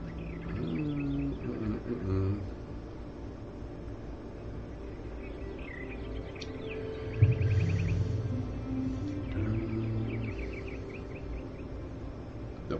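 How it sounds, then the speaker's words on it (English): Birdsong in the ambient soundscape of the video game Gothic II: bursts of high chirps and trills recur over a steady low background hum, moderately distant and not loud. "The birds chirping and stuff."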